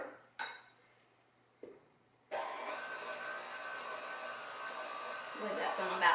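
An electric mixer whirs steadily at medium speed through roll dough, a loud, even motor drone that starts after a couple of soft kitchen clinks and runs to the end.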